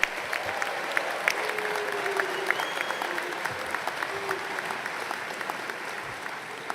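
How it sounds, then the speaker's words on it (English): Audience applause at a spring university commencement ceremony, a steady wash of clapping across the whole stretch with a few sharper claps standing out, moderately loud and sustained from start to finish. "give them a round of applause"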